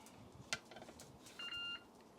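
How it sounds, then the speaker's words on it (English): Short electronic beeps from a Ninja Woodfire Grill during a picanha cook, a faint blip followed by a steady higher tone of about half a second, over quiet room noise. "This thing's always beeping at me"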